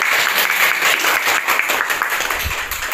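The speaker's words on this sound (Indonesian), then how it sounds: "Tepuk tangan buat kita semuanya." A classroom of students applauds together, a dense, close burst of clapping that stays steady for the whole stretch with a faint voice underneath.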